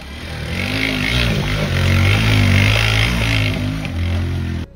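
An off-road motorbike engine revs loudly and close by on a rough trail ride, its throttle swelling and dipping in a continuous throaty roar that cuts off abruptly at the end.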